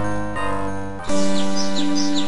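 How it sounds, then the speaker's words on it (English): Synthesized bird chirps from the video game Quest for Glory 4 trill repeatedly in quick, bright bursts over sustained in-game music, fairly loud and near, with no voices. "Pretty birds, happy tree."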